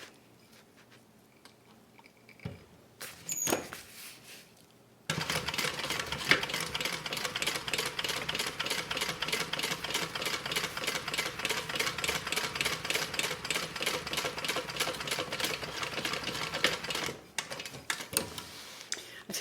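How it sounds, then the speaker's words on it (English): A sewing machine runs a row of stitching on a range bag in a fast, even mechanical rattle lasting about twelve seconds, close and clear, after a few faint handling clicks. "I'm going to go ahead and just do one more row of stitching here."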